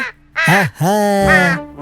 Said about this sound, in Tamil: செம்பா, மாதா காக்கா இங்கதான் வந்துகிட்டு இருக்கு.